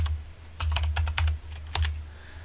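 Typing on a computer keyboard, a quick cluster of crisp, close key clicks in short bursts over a low steady hum, with a pause and a final few taps.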